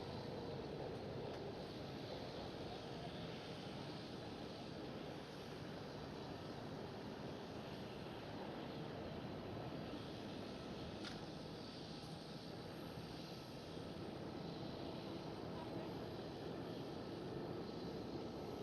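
A KLM Cityhopper Embraer E190 jet departs Schiphol with a faint, distant, steady engine roar, a broad even rush lasting throughout with no speech.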